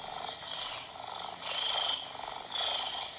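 An emergency cat toy plays electronic cat sounds: purring and mewing in uneven, looping bursts, close and fairly loud, with no talking.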